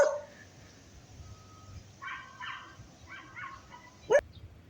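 Several short bursts of dog barking at a moderate distance, spaced across the clip, with a sharper yelp near the end and faint background hum.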